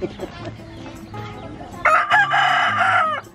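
A rooster crows loudly and close by, a long strained call, after a few softer clucks and background chatter on a rural farm in the Philippines.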